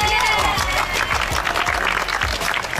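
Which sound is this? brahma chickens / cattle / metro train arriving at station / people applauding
people applauding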